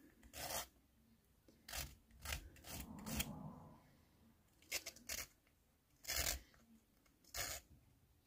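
A cutting blade from a paper trimmer scraped across a pumice stone during sharpening: short, quiet gritty rasps, about eight separate strokes with gaps between them.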